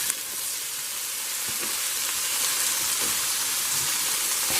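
Steak meat sizzles steadily in a non-stick skillet alongside a hot bean and corn fajita mixture, a continuous broadband hiss with a few soft spatula scrapes, fairly close and without talk.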